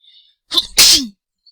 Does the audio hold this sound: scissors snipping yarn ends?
no